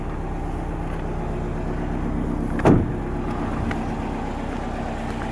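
A Subaru Impreza WRX STI with a six-speed manual sits idling, a steady low engine hum running evenly throughout with a brief louder knock or thud midway.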